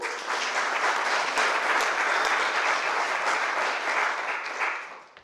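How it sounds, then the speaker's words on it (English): Audience at a jazz trio concert in a community music school breaks into steady, full applause that swells quickly, holds dense and close for several seconds, then tapers off near the end. "By a round of applause here"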